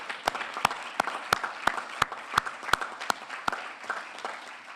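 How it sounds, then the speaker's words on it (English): A conference audience applauds the organizing team at a healthcare conference, sparse applause under a regular series of sharp, evenly spaced claps close to the microphone, with a few people clapping in the background. "let's give a big round of applause to the team who's been working hard behind the scenes."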